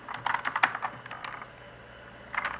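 Quick bursts of typing on a computer keyboard, close and clear, a rapid flurry of key clicks, then a pause, then a few more taps.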